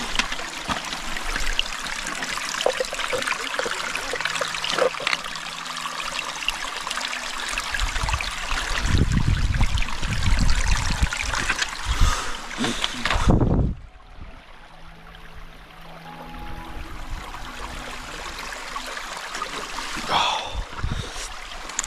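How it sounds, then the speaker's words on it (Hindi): Small cold mountain stream on a snowy Himalayan trek, water trickling and splashing steadily up close while a bottle is filled, with a louder gush near the middle before the flow settles to a softer babble. "तो हमें एक छोटी सी स्ट्रीम मिली है, तो उसमें जो एनर्जी ड्रिंक मैंने बनाया था उसमें पानी भर लेते हैं"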